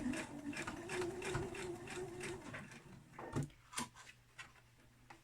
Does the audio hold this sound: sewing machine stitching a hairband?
yes